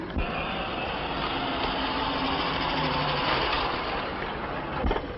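Car engine idling in a 1935 film scene, a steady low rumble under old-recording hiss, constant for several seconds with a brief knock near the end.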